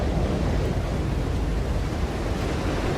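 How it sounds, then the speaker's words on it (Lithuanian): Ocean waves in the video game Still Wakes the Deep, a dense, steady roar of surf with a wind-like rush, loud and continuous throughout with no talking. "Tokie bangos dar gražios."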